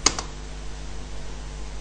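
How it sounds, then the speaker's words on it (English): A few quick keystrokes tap on a computer keyboard, a short faint burst of clicks entering a command at a terminal in a quiet room. "By typing the pwd command"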